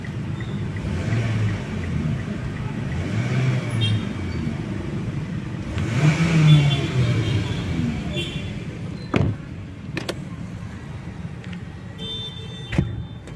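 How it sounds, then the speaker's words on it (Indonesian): Mitsubishi Xpander Exceed with manual transmission idles and revs, a low engine hum swelling midway, with a few sharp clicks and knocks inside the cabin and a person talking over it. "Nah, ini dia suara mesinnya."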